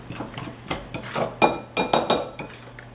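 Spoonfuls of ice water being mixed into flour for pie crust dough, heard as a run of irregular clinking and scraping strikes of utensil against bowl, close and fairly quiet.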